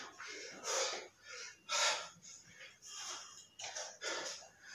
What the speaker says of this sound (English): I'm gasping for air.